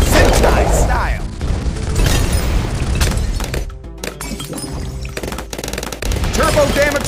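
Laser bombs going off in Bloons TD 6, a dense, unbroken wash of crackling blasts and shattering hits that stays loud throughout, with a brief thinning in the middle before the clatter resumes.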